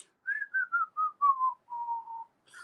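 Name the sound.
singer's whistle-register notes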